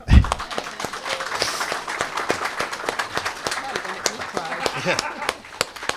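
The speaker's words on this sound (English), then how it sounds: "So just brief round of applause for Connie." Small audience at a veterans' house grand opening gives a brief round of applause, a scattered clatter of hands at moderate distance with some talk mixed in.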